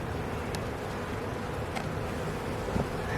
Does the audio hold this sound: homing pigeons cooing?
no